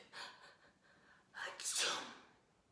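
A narrator acts out a bear sneezing during a French children's story, giving a breathy intake followed by a sharp, noisy sneeze imitated by voice, close and moderately loud.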